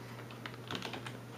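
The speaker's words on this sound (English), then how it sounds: "On the content of the email, I'm going to type various commands." Keys tapped on a computer keyboard while a command is entered for an Aibo ERS-7 robot dog's mail feature, a short run of soft, close clicks over a steady low hum.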